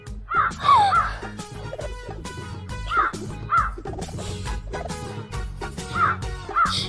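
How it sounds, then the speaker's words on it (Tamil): A crow caws repeatedly, loud and close, the harsh calls recurring at irregular intervals over other background sounds. "ஏ காக்கா சத்தம் போடாத, அமைதியா இங்கே இரு."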